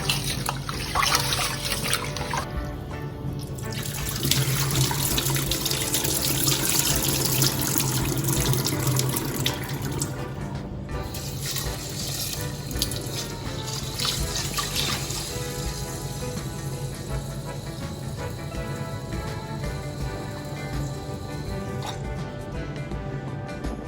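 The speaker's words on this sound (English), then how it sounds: "First we have to wash our rice." Rice is washed in water under a running kitchen tap, giving a steady, close rush of water splashing into a sink that continues unbroken for over twenty seconds.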